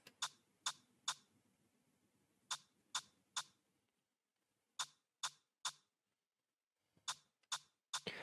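Two rim shot samples layered in FL Studio for an Afrobeat track strike in sharp triplets separated by gaps, each hit bright and clicky with a short tail, with effects applied, no voices.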